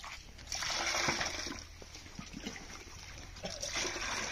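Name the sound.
pouring water into a bucket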